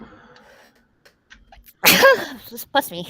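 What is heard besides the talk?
sneeze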